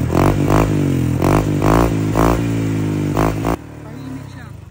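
A Honda Click scooter fitted with a Hun pipe exhaust and silencer revs in about six quick, loud, close throttle bursts over a steady engine drone, then drops abruptly to a quieter idle.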